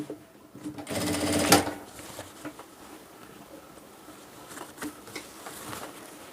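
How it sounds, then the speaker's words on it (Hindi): A sewing machine stitches the lower hem of a men's pant-cut pajama in one close burst of rapid whirring that lasts just over a second, then tails off into faint handling sounds and small clicks. "अब इसकी हम नीचे की सिलाई लगाएंगे"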